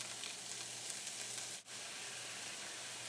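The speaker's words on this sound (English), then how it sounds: "When the butter gets nice and foamy, it's time for us to add our washed leeks." Washed leeks hit foamy butter in a pan, giving a soft, even sizzle that holds steady apart from one brief dip, with no talking.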